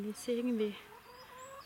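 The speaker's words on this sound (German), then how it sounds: "darf ich vorstellen, das ist mein Huhn" A pet hen with partly paralysed legs, one of about six backyard chickens, gives short tonal clucks and a drawn-out call at close range while a person speaks briefly over it.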